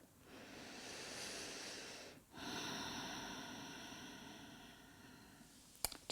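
Slow, audible breathing through a held side-bending yoga pose, a long airy exhale, a brief pause, then a long inhale, close and steady, ending with a small click.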